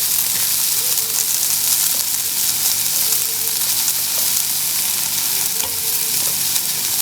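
Sweet corn sautéing in a pan with butter, a loud, close, continuous sizzle with scraping stirs running throughout, no voices.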